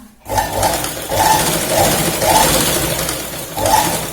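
An electric sewing machine stitching salwar fabric runs steadily and loud, its motor whirring continuously with a rhythmic mechanical pulse repeating about every second.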